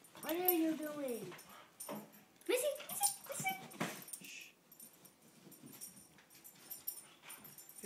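A dog whimpers and whines while carrying a bone around, with a person's voice talking over parts of it; the whimpers come in close, repeated bursts.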